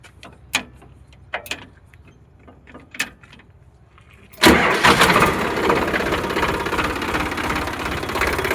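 A few scattered clicks and knocks, then a 2016-17 Sonalika DI 42 diesel tractor engine cranks and roars to life up close, settling into a loud, steady idle.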